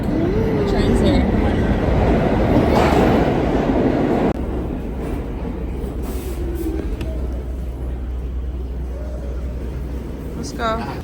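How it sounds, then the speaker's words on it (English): A train pulls into a station with a loud, steady rumbling roar that drops slightly in intensity partway through, ending with a brief high squeal. "The train's here."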